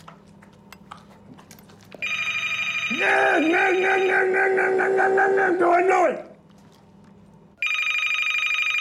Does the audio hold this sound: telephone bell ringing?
yes